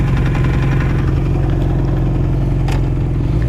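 A 1981 Honda CB900F motorcycle idles close by. Its engine gives a loud, even, lumpy rumble with steady mechanical clatter over a few seconds, and no voices are heard.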